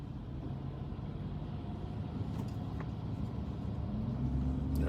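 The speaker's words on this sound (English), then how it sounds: "I have a big truck in front of me." Steady low road rumble from inside a vehicle sitting in traffic behind a big truck, a continuous broadband drone that swells slightly toward the end as an engine tone rises, with no talk.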